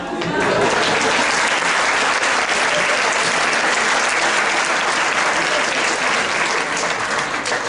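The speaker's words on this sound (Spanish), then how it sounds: "Es para el aplauso." A symposium audience applauds loudly and continuously, a thick, even roar of many hands that holds steady throughout at close range.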